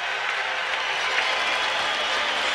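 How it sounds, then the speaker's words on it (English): A hockey arena crowd cheers and applauds in a dense, sustained roar of many voices and clapping, loud and even throughout. "And listen to this crowd."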